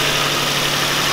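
An Infiniti G35's VQ engine running on E85 drones steadily in a short, even stretch of close, loud mechanical noise with no talking.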